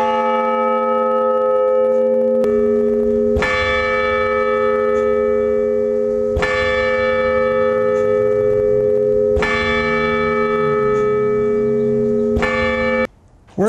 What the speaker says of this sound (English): When the clock trips the trigger, it will pull this cable, the hammer comes back and strikes the bell